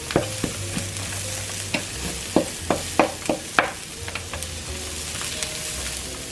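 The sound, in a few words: garlic frying in a pan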